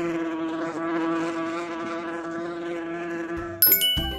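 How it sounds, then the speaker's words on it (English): A wasp buzzes steadily with a bright, droning hum that wavers slightly in pitch, close and fairly loud, then a short chiming jingle cuts in near the end. "Yikes! A wasp!"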